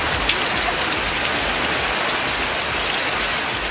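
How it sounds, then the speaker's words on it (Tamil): Moderate rain falls suddenly and steadily in Rasipuram, Namakkal district, a dense, even hiss of drops close by, with no voices. "எந்த ஒரு அறிகுறியும் இல்லாமல் திடீரென மிதமான மழை பெய்தது"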